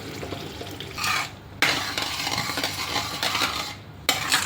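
A utensil stirs a pearl millet (bajri) khichdi mixture in a pot, giving scraping swishes and metallic clinks in uneven bursts with short pauses and a faint bubbling sizzle underneath.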